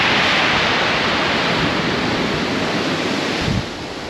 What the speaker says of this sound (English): that wind swung round more to the west